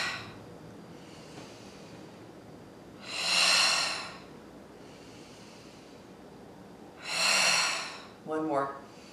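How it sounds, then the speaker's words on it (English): Breathing during an arm exercise: two strong, close breaths several seconds apart, with softer breaths between them and a brief voiced sound at the end. "Pull that belly in when you exhale."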